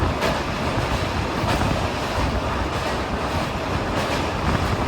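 The Amritsar New Tinsukia Express pulls out of Beas Junction, heard as a loud, steady rumble of rolling wheels and rail noise from close by, with no voices.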